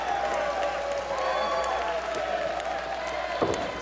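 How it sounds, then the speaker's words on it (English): A wrestling crowd at St. Pete cheers and applauds steadily through a lariat by one wrestler on another, with a commentator talking over it and a sharp slam near the end. "The crowd comes alive here at St. Pete"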